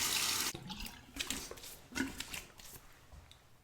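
Tap water running and splashing into a sink as a razor is rinsed between passes of a wet shave, a loud burst of flow at the start that breaks into shorter, softer splashes and trickles.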